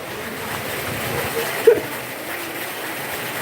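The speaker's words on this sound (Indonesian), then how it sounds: "Hujan sudah turun, saudara-saudara." Rain falls outdoors as a steady, broadband hiss that runs evenly throughout, with one brief louder spatter near the middle.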